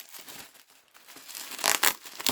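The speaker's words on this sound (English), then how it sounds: "These scissors are so dull." Quiet crinkling and tearing of plastic packaging around diecast toy cars, close by, with a few louder rough snips and rips from dull scissors near the end.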